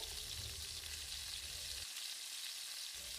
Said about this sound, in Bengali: এখন দিয়ে দিচ্ছি আমার ভাজি করে রাখা পেঁয়াজ রসুন এগুলো দিয়ে আর একটু কষিয়ে নিব নেড়েচেড়ে